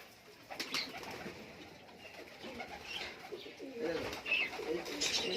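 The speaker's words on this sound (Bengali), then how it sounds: "প্রচুর পায়রা আছে প্রচুর পায়রা" Several Murshidabad desi giribaz high-flyer pigeons coo softly and repeatedly in an enclosed loft, with faint rustling and scattered chirps around them.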